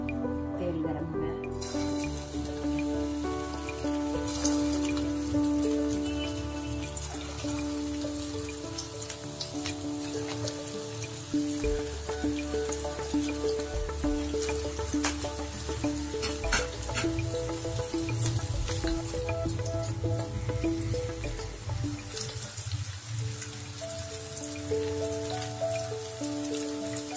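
Mutton kofta balls sizzle and crackle steadily in hot oil over a high flame, a continuous close frying hiss with scattered pops and dense harmonic background throughout.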